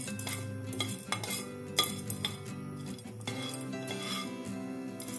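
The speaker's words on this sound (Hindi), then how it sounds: "1/2 दाल को हम हल्का रोस्ट कर लेंगे।" One tablespoon of chana dal lightly roasting in warm oil in a pan gives soft, quiet metallic scraping and clinking as it is stirred, in irregular strokes with a few sharper taps.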